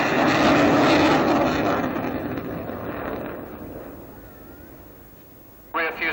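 A Panavia Tornado jet with its wings swept fully back passes at fairly slow speed, a broad loud roar that slowly fades into the distance, followed by a brief voice.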